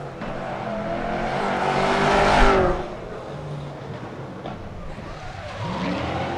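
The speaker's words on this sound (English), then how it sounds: "Denis Miguel with his BMW M3, 550 horsepower" A 550-horsepower BMW M3 drift car revs hard at a Sochi drift qualifying event, its engine swelling to a loud peak mid-clip and then dropping back to a steady drone, with hints of tire squeal.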